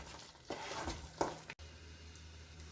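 Eggplant bharta being stirred with crushed peanuts in a pan, giving a soft, uneven scraping and faint sizzle with two brief louder strokes, then a quieter steady background.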